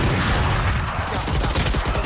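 Gunfire from the tactical shooter game Valorant comes as a rapid, dense burst of sharp shots. It is loud and close and runs unbroken for about two seconds, with no voices.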